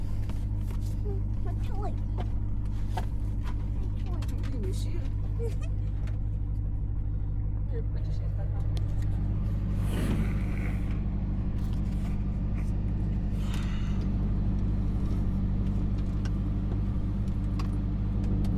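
A car engine hums steadily from inside the cabin during a drive, with light rattles and clicks throughout and a voice talking over the engine noise.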